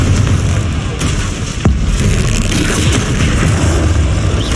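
Confringo fire-spell blasts in Hogwarts Legacy on hard difficulty: rumbling booms and bursts with one sharp crack partway through, loud and continuous amid other combat effects.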